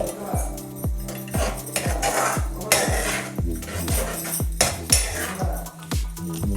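Metal spoon stirring Kerala-style egg roast masala in a pan, a brisk run of sharp scraping clinks against the pan in quick rhythm, close and loud, with faint sizzling underneath.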